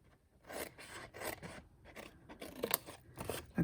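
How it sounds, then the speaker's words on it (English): Scissors cutting cardstock along a template line for a Christmas candle gift box, with a series of close, crisp snips and rasping blade strokes in uneven rhythm, no talk over them. "Okay, cut up on this line"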